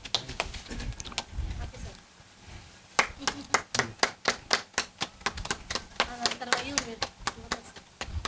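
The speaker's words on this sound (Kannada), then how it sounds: "ಸನ್ಮಾನಿತರಿಗೆ ಚಪ್ಪಾಳೆ ತಟ್ತಾ ಇರಬೇಕು" Scattered, fairly faint clapping for an honoree at a felicitation during a music program, sparse claps first while someone speaks, then a steadier rhythmic run of distinct claps.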